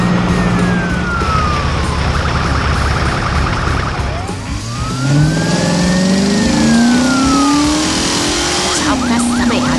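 Cartoon heavy construction vehicles, a wet tractor, excavators and dump trucks on a snowy job, rumble with revving engines and rising siren-like whines, loud and continuous, over a steady background score.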